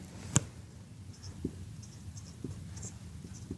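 Pen or pencil writing numbers on paper while working a physics measurement problem on precision and accuracy, giving soft scratchy strokes with a few sharper taps, faint and close with no talking.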